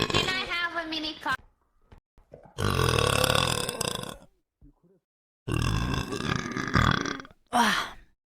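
A young woman's loud, drawn-out burps come up close in three long bursts with short pauses between them, followed by a brief fourth one, and little else is heard between them.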